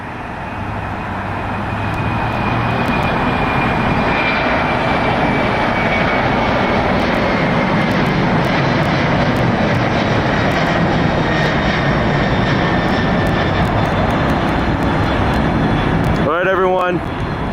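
A FedEx jet airliner at Los Angeles International Airport at night roars loudly and continuously as it passes, a broad sustained engine rumble filling the scene, with a faint whine riding on top.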